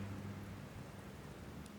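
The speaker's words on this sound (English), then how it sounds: "the rain is still coming down pretty hard" Heavy rain pours steadily as ambience for a tabletop role-play scene, a dense continuous hiss of drops with a low rumbling undertone, loud and unbroken throughout with no voices.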